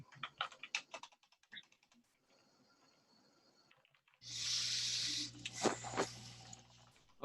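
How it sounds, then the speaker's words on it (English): Computer keyboard typing during a conservation committee meeting, quick clusters of key clicks at the start and a few scattered taps, followed by a stretch of steady hiss and a louder burst near the end. "I'm just typing this up real quick."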